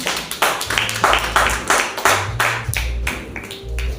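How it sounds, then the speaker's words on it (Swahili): A church congregation claps together for Jesus in a steady rhythmic beat, loud and close, with firm repeated hand claps and no talking over them. "Pigia Bwana Yesu makofi mazuri."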